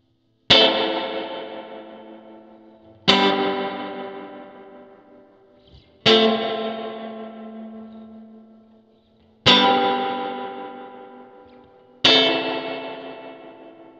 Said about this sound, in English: just listen to that real spring reverb